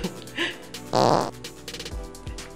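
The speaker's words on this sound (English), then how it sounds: "I'm the first to fart in FilmIsNow." A loud, blustery cartoon fart sound effect bursts out for about a third of a second, standing alone between quieter background sounds and soft voices.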